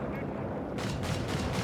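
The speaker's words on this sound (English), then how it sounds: "Up north here, artillery called in." Artillery fire in the strategy game Company of Heroes 3, a dense rumbling barrage of booming impacts that grows harsher partway through, with battle noise layered throughout.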